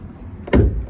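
A short, sharp click from the hood release lever inside a 2016 Jeep Patriot, a single close mechanical snap over faint background hum.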